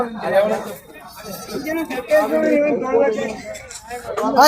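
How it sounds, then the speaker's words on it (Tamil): Goats bleat at a busy goat market, their cries mixed with close talk and background chatter from the crowd. "இங்க ரெண்டு ஆடு வச்சிருக்காங்கப்பா"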